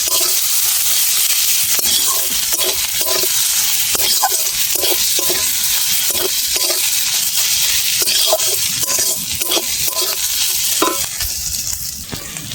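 Spice masala with chilli powder for aloo dum fries in hot oil, a loud continuous sizzle broken by repeated rhythmic scrapes of a spatula stirring, close and steady.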